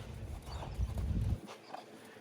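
A horse named Murphy walks during dressage schooling, his hooves striking the ground in a soft, steady clip-clop at close range, with faint voices around.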